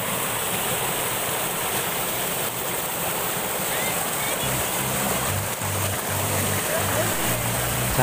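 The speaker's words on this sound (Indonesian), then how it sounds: "Jangan sampai bosan ya guys menyeberangi aliran sungai seperti ini." A river stream flows strongly during a crossing on foot near a hot spring in a rural village, a loud, constant rushing wash of water close by.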